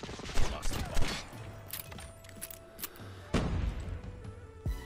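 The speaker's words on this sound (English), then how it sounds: "That's an MG." Machine gun fire in the mobile shooter Call of Duty Mobile, with bursts of rapid shots and sharp game effects under a busy in-game sound mix, heard close and fairly loud.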